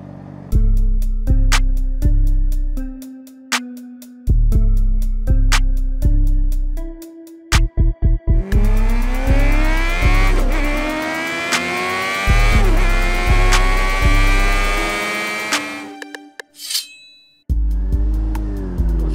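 Loud motorcycle and traffic engines rev and roar past in repeated bursts, with pitch sweeping up as vehicles accelerate, interrupted by brief cuts; close and continuous, no talking.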